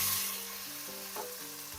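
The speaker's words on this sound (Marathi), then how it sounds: "कांद्याचा रंग जोपर्यंत सोनेरी होत नाही तोपर्यंत आपण परतून घेऊया." Onions for chicken biryani fry until golden, giving a brief, steady sizzle close by as they are stirred in the pan, with no speech.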